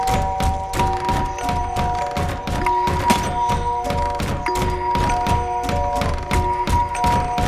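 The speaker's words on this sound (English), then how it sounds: "Is that a doll banging its head on the freaking crib?" A doll repeatedly bangs its head against a wooden crib in the horror game Layers of Fear, a steady rhythm of close, hollow thuds and knocks continuing throughout.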